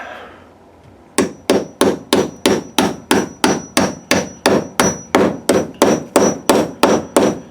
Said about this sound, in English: I'm going to take a hammer and just pound it in there.